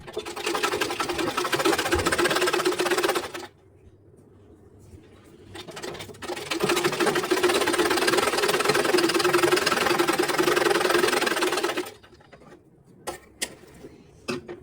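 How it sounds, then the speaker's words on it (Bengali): A sewing machine runs long basting stitches through blouse fabric, loud and close, in two sustained bursts separated by a quiet pause, then a few short stop-start taps at the end. "মেশিনের সেলাইগুলো একটু বড় করে একটা সেলাই করে নেব"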